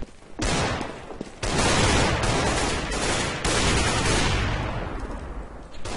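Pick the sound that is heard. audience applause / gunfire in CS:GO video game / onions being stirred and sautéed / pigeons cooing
gunfire in CS:GO video game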